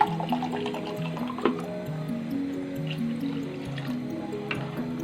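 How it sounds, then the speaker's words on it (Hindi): Water is poured into a pot of aloo qeema, potato and minced meat curry, during cooking, a soft trickling fill with drips and light clinks over a faint background tone. "अब हम इसमें पानी डालेंगे अपनी ज़रूरत के मुताबिक"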